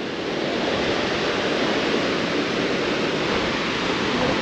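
Ocean surf rolling onto a broad sandy beach at Kuta, Bali, a steady loud wash of breaking waves filling the whole stretch without pause, with no voices over it.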